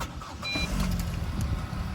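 A 2015 Hyundai ix35 SE engine cranks and catches, settling into a steady, fairly loud idle that runs throughout, with no talking over it.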